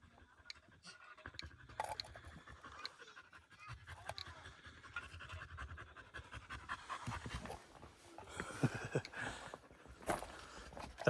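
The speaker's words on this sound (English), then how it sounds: "That's not me breathing heavy. That's all the dogs following me around." Several dogs following someone around a ranch pant heavily and rapidly close by, their breathing continuous with occasional licking, chewing sounds and footsteps, and no talk.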